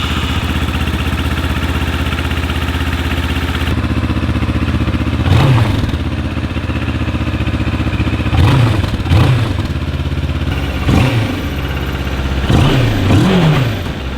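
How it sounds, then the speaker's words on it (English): A Moto Morini X-Cape 650 motorcycle idles steadily up close and is revved several times in quick throttle blips, each rise in engine pitch falling back to idle. "Let's start it up and let's rev it a couple times."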